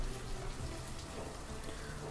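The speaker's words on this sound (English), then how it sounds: "Why does it rain every few minutes?" Rain falls steadily in the colony-building game Banished, a dense constant patter of drops on surfaces with no voices over it.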